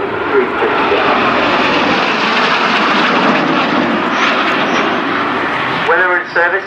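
A formation of jet aircraft flies past at the Culdrose Air Day in July 2015, a loud, steady roar that fills the whole stretch while a commentator talks over it.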